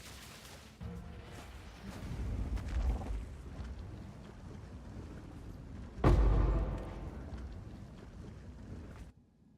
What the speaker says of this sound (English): Look at this chain explosions though.